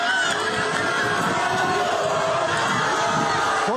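A large, rain-soaked concert crowd in Turkey boos and shouts at a singer, a dense, loud, continuous roar of many voices with mixed jeering and yelling.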